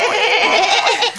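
A human voice imitates a sheep bleating, a single wavering, nasal baa held for about a second, loud and close, with no other talk over it.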